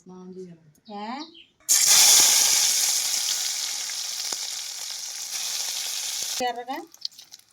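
Onions and green chillies dropped into hot oil erupt into a loud, close, continuous sizzle that fades slowly over several seconds, with a person talking just before and after it.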